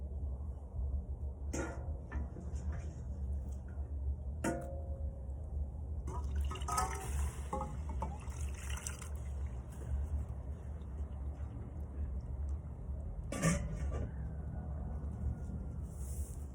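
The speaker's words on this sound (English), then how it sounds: "Let me first start by offering the stones some water." Water poured onto hot stones in a temazcal sweat lodge, giving a few sharp hissing bursts and sizzles over a low steady rumble.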